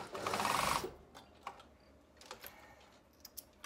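A sewing machine runs a short burst of stitches on a fabric seam, a steady rapid whir near and loud for under a second, then stops; quiet handling clicks and taps follow.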